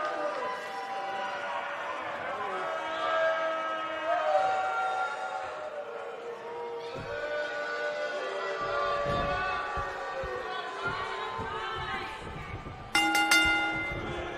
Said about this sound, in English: And there's the bell, and here we go.